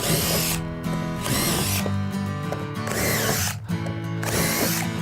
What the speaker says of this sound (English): I do pre-drill them. Just a little hole.